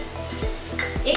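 Garlic-ginger paste sizzles in a hot pan for chole masala with a low crackle and light stirring clinks, while someone speaks over it.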